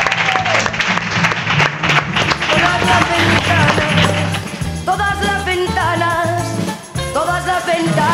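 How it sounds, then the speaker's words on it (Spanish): A studio audience at a talk show gives strong applause, loud and continuous, while music with sustained tones comes in over the second half. "con este fuerte aplauso"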